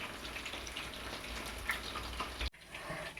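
Chicken pakodi frying in hot oil, a steady close crackling sizzle with scattered pops, briefly cut off and then continuing.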